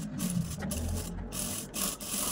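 A sewing machine stitches a quarter-inch seam along a blouse neckline, a steady mechanical rasp with a low motor hum running continuously, broken by brief pauses in the stitching.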